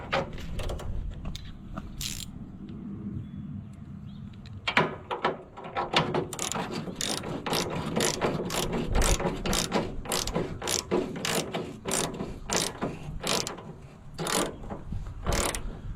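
A ratchet tightens the side hood on an Allis Chalmers D17 diesel tractor, giving close, loud runs of rapid clicking in repeated strokes with short pauses, growing steadier and more rhythmic in the second half.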